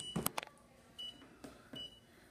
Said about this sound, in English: It also has an audible beep which you can turn on and off